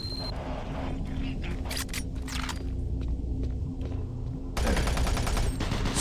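Bursts of gunfire from the shooter DOOM 3, a few sharp shots in the middle followed by a loud sustained stretch of rapid fire near the end, set against a steady ambient hum.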